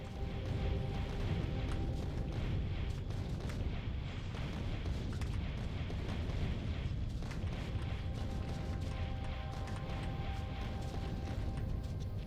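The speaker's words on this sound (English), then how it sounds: "Little bombs, little bombs, big bombs, holy moly." Big rocket explosions in the Factorio Space Age game roll on continuously, a dense, loud, rumbling barrage of booms layered over steady mechanical background noise, with no talking.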